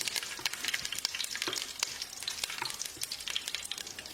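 Whole spices, including cloves and curry leaves, sizzle and crackle in hot oil for a chicken curry, quick pops scattered over a steady frying hiss, close by with no talking.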